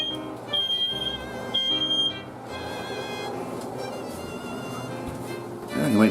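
Smoke detector alarm going off in a kitchen while pancakes are cooked: shrill repeated beeps over clattering and kitchen noise, close and insistent, with a voice speaking near the end.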